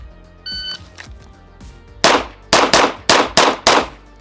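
An OA Defense 2311 Pro 5-inch pistol is drawn from concealment and fires five sharp, loud shots in quick succession, each ringing briefly, after a short electronic timer beep.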